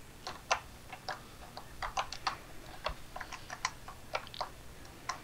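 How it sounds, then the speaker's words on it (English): Irregular clicks of keys being typed on a computer keyboard, quiet and close, in uneven bursts with short pauses, with no voices over them. "What are you typing now?"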